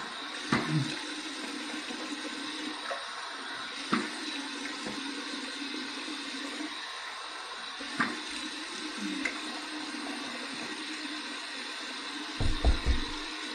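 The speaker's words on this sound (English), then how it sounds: "Here's my warm water rinse." Tap water runs steadily for a warm rinse while shaving with bay rum shave soap, a continuous hiss broken by a few soft splashes and clunks near the end, with no speech.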